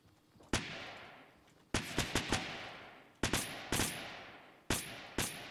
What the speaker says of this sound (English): I'm gonna use all my ammo.